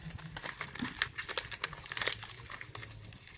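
Sheets of paper are folded down and creased while making an origami envelope, giving soft, close crinkling and rustling with small scattered crackles and no voice.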